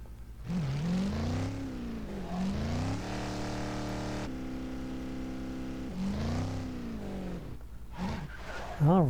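A race car in the video game Disney Infinity 3.0 drives on a Monstropolis motor race track, its engine note climbing and falling steadily through repeated revs, loud and continuous.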